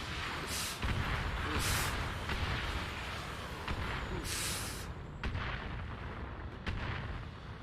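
Thunderbolt missiles fire and explode in a video game, a run of heavy booming blasts and crackling bursts that come in quick succession, loud and dense, with no talk over them.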